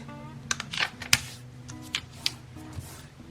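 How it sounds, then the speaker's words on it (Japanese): Origami paper being folded in half, heard as a series of short crisp crackles and taps at irregular intervals, close and quiet, with a faint low hum underneath and no talking. "ではまず折り紙を半分に折ります。"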